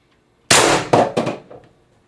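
A single sharp crack from an IntruBuster Gen 2 carbine air rifle firing 21.5 gram ammo on a slow-leaking, nearly empty charge, loud and close, followed by quick metallic rattles that fade within a second.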